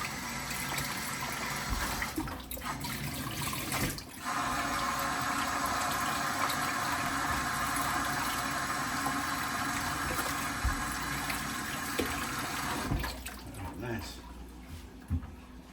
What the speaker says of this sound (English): So now let's wash off our potato.